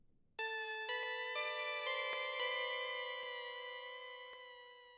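Sampled beat with a sustained bell-like chord that shifts pitch several times, treated with vinyl wobble and auto-panning, clear and alone, slowly fading toward the end.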